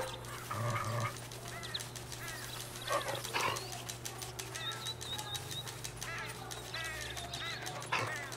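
A wild dog in GTA V barks and yips in short bursts amid game ambience and flapping sounds, with a voice talking at times.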